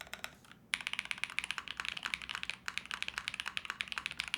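A Brutal V2 mechanical keyboard typed on at a quick, even pace, each keystroke a crisp clack close to the microphone, with a brief pause near the start.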